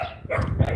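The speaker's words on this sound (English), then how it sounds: "You're going to see 2 big-ass German Shepherds right here." Two large female German Shepherds bark, a short burst of deep, loud barks close by with a brief yip, against background noise.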